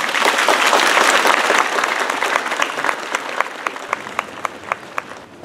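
Congregation applauding a newly ordained priest at an open-air Mass on a Warsaw walking pilgrimage. A dense burst of clapping thins out into a few slow, distinct claps that fade near the end.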